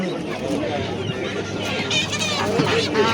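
Chickens at a poultry market, scattered clucks and fowl calls close by amid market noise and people talking.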